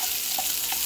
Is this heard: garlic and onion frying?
yes